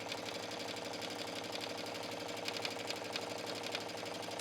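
A sewing machine stitches down a denim shirt dress, running in a steady, continuous whir with a fast needle rhythm, close and clear with no talking.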